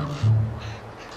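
Young raven chicks calling from the nest, a brief rough cry near the start that fades into a low hum and outdoor noise.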